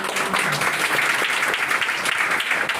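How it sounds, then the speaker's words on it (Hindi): A congregation claps steadily at a church service, many hands in a dense, even patter that holds at moderate loudness from start to finish, with no speech over it. "जोरदार ताली बजाओ।"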